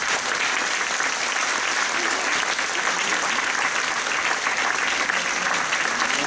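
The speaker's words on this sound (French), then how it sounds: "Je crois qu'on peut l'applaudir." A municipal council audience applauds the long-serving mayor with sustained, even clapping from a crowd, loud and continuous throughout, with no talk over it.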